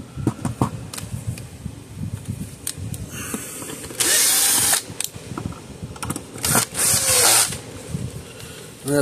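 A power drill drives a screw into a fence charger unit, with two loud, sustained whirring bursts around a few scattered clicks and handling noises, close and alone.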